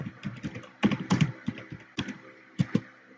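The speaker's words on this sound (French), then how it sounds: "On va rentrer x au clavier, print f." Typing on a computer keyboard while entering C code, irregular bursts of close, crisp key clicks with a few heavier strikes and brief pauses between them.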